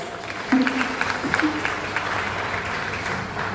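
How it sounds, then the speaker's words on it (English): Audience applause at a literary association talk, a moderate round of clapping with scattered louder claps and some murmured voices mixed in. "That really, deserves a huge round of applause."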